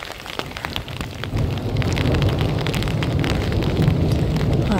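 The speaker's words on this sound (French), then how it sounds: "je suis en train de me prendre un orage sur la tronche" A thunderstorm breaks over a walker on a countryside pilgrimage trail, with steady, dense rain drumming on surfaces and a deep rumble building and swelling after the first second, loud and continuous.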